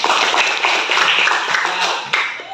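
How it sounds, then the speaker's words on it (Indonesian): A classroom group applauding students, giving steady, dense clapping from many hands that stays loud and close for a couple of seconds before tapering off. "Tepuk tangan untuk mereka."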